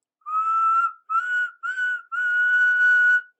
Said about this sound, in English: Whistled Thomas in alarm.